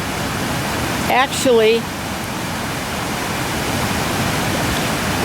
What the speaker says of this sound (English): Right here we have a little waterfall